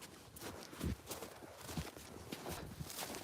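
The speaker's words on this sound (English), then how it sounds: "She's such a good horse." A horse walking, its hooves clip-clopping in a slow, steady rhythm of a few distinct thuds, fairly quiet and close.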